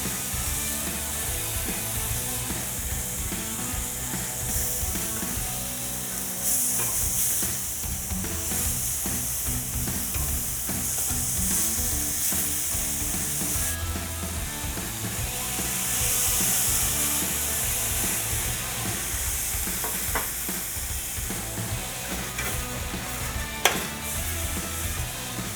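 Lean beef patties and onions sizzling in tallow on a griddle, a loud, dense, continuous hiss with crackle and occasional scraping, up close and uninterrupted by talk.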